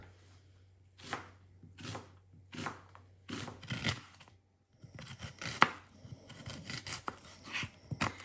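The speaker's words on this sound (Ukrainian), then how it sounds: "Тепер сюди треба порізати до цього маринаду одну цибулинку півкільця чи четверть кільця" A knife cuts an onion into half rings on a board for a fish marinade, producing a run of crisp, regular chopping strokes, a brief pause, then faster, denser slicing.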